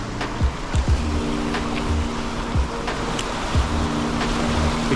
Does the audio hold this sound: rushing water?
yes